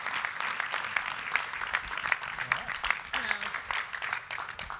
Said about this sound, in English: How about we just have a round of applause for all of us?